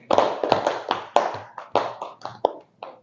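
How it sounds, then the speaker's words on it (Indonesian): A group of students in a school guidance-counseling session claps their hands for about three seconds, giving a series of sharp, close bursts in an uneven rhythm that ends with a few scattered claps. "Tepuk tangan untuk Regina."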